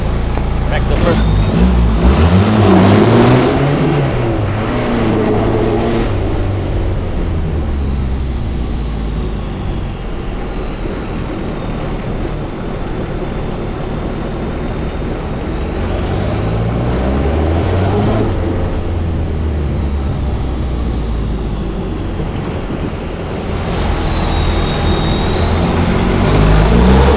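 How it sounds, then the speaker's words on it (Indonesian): Diesel off-road buggy built from used parts, its engine revving and rising in pitch through the gears, loud and close, with a hiss like an air release and a few whining surges. "Nah, ini pakai mesin diesel"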